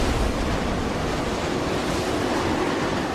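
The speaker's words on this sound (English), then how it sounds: "She sails directly into the waves, and because she is lower in the water, she cuts through them." Ocean waves crashing against the hull of a racing sailboat at sea, a loud continuous roar of surf and spray mixed with heavy wind buffeting, with no voices.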